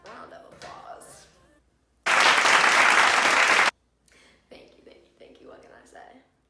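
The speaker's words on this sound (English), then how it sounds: "Round of applause" Brief burst of applause in a small setting, loud and dense for about a second and a half before cutting off, with talking before and after it.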